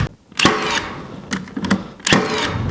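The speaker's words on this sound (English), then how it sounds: "Just faster with a nail gun." Pneumatic nail gun firing nails into wood while building DIY storage shelves: a few sharp, loud broadband cracks spaced about a second apart, with quieter handling noise in between.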